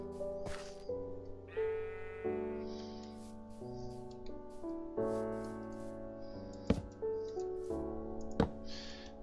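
Sheep bleat repeatedly in short, bright cries in a farming video game, over a quiet background, with a couple of sharp clicks breaking in.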